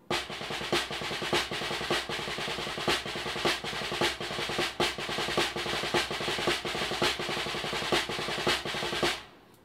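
A steady snare-like drum rudiment of quick five-stroke rolls punctuated by regular accented hits, loud and close, running continuously before stopping abruptly.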